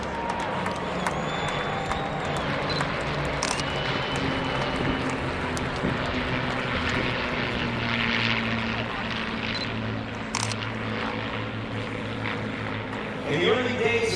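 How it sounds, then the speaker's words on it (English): A World War II B-24 Liberator bomber and P-51 Mustang fighters fly over the Capitol, with a sustained loud droning roar of piston propeller engines passing overhead amid outdoor crowd ambience. "Here's the Liberator with the Mustangs."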